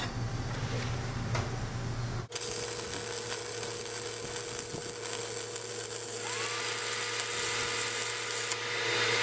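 A stick welder runs a bead on thin material with small electrodes. After a brief lull a steady, dense crackling hiss starts and continues unbroken, close and fairly loud.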